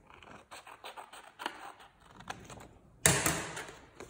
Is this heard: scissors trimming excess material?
yes